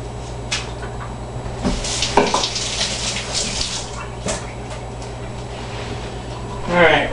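Running tap water splashing in a kitchen sink while root vegetables such as rutabaga are rinsed, moderately loud, with a few sharp clatters and a voice speaking over it.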